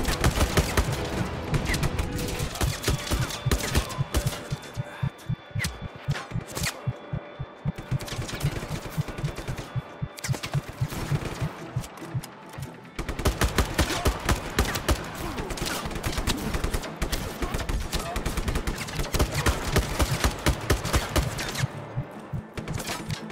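Sustained, dense automatic gunfire from military weapons in the open-world game Just Cause 3, rapid overlapping bursts roaring nearly nonstop, with a brief lull midway before the barrage resumes at full loudness.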